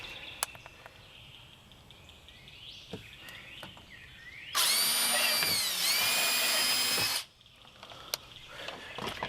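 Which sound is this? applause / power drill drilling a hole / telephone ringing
power drill drilling a hole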